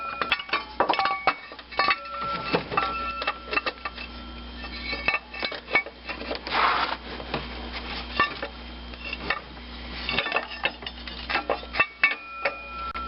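Metal bolts and a bracket clink and tap while being fitted near the AC compressor on a Dodge Caravan 3.0L engine during a timing belt and water pump job, with scattered close metallic knocks and rattles throughout and no talk.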